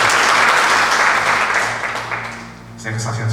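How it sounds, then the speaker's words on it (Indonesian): A church congregation breaks into loud, dense applause during a worship service, filling the room for a few seconds before tapering, then a voice speaks over the hall. "Boleh sekali lagi kita berikan tepuk tangan buat Tuhan."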